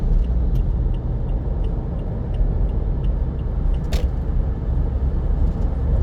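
Steady road traffic on a Davao City street, with trucks and motorcycles moving nearby. A constant low rumble of engines and tyres runs throughout, with a brief sharp hiss or clank about two-thirds of the way through.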